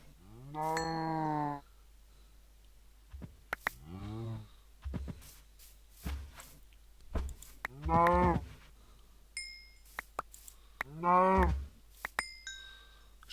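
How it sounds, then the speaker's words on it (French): Cows in a video game moo repeatedly, with several long, loud lowing calls spaced through the scene, interspersed with shorter grunts, clicks and small chiming game effects, and no talk over them. "Je devrais vraiment penser à faire un élevage de ces vaches-là."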